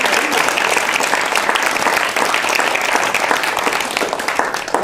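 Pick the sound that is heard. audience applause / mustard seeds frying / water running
audience applause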